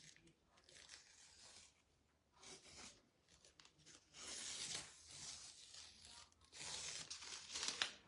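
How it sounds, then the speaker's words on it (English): Tape is peeled off a framed snowman craft in several faint, close tearing strips with short quiet gaps between pulls. "So I'm going to take this tape off."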